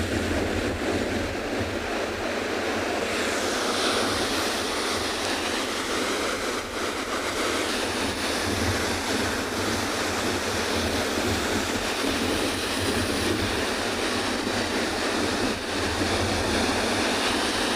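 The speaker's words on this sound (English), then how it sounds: "absolutely loving the waves, and why not? It is very, very mesmerizing." Ocean surf washing onto a penguin beach, a steady broadband rush of breaking waves with wind noise, continuous and fairly loud throughout, no voices.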